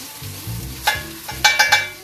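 Garlic drops into a pan for a herby chicken stew, hissing faintly at first and then breaking into several sharp, close spits and sizzle bursts toward the end.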